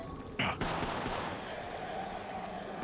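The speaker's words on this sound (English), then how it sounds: "Signaling an airstrike." Airstrike bombardment in the Apex Legends Mobile video game: a sharp blast, then a dense, continuous roar of explosions and rumbling fire that stays loud throughout.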